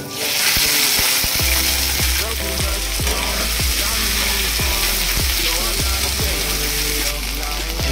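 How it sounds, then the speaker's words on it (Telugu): Cut okra (lady's finger) sizzles loudly in hot oil for an Andhra-style bendakaya curry, with a steady dense frying hiss broken by regular scraping stirs of a spatula in the pan, close up and with no talking. "ఆయిల్ అయితే వేడింది, బెండకాయలు వేసుకుందాం."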